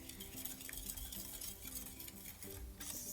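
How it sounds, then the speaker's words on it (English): Eggs beaten by hand with a whisk in a bowl for lemon butter madeleines, a steady rapid clatter of wire against the bowl, close and continuous with no talk. "So I beat the eggs a little bit"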